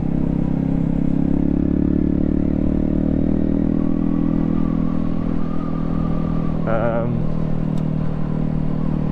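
A Honda Grom motorcycle out on a ride gives off a loud, continuous engine drone with wind rush. The revs shift slightly, and there is a brief rattle near the end.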